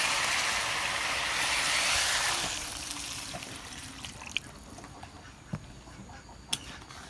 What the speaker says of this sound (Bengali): এখন আমি ঝোলের পানি দিয়ে দেবো